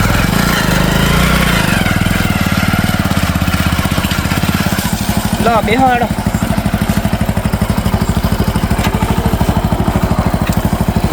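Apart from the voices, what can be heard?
motorcycle engine running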